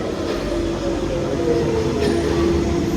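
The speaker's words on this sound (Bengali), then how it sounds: "একটা ট্রেন আসছে ইন টাইমে একটা ট্রেন আসছে।" A London Underground train arriving at a deep station, a loud continuous rumble and roar with a faint metallic whine, steady and close throughout.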